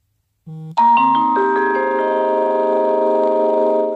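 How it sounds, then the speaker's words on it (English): A mobile phone rings with a melodic electronic ringtone: a few short notes, then sustained layered tones that hold steadily and loudly for several seconds, close by, with no talking over it. "Sorry, that's my phone."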